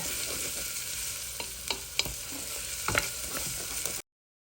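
Onions sauté in a pan for rice pilaf, a soft steady sizzle close up with scattered scraping stirs from a utensil, ending abruptly in silence.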